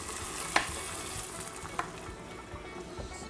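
Beef broth poured into a hot pan with venison cooking on salt, giving a constant sizzling, bubbling wash with a couple of sharp clinks from a utensil.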